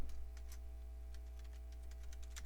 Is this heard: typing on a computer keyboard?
yes